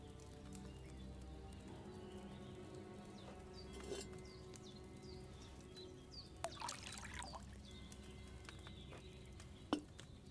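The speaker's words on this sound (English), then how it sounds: "What did you pour in there? Wine, of course." Wine poured into a cauldron in a medieval 1400s survival video game, a faint, steady liquid trickle running several seconds, with occasional clinks and clip-clop ambience in the game scene.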